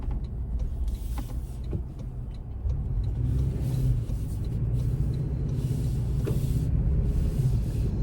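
A 2025 Toyota 4Runner Trailhunter takes a sharp corner, its engine a low, steady rumble from inside the cabin that swells slightly partway through, with faint clicks and rustles over it.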